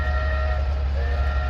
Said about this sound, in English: a train heading towards Porthmadog in the distance